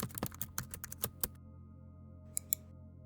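Quick, close computer keyboard keystrokes typing a card title in the Trello project-management app, a brisk burst of clicks lasting about a second, then near silence broken by two faint taps.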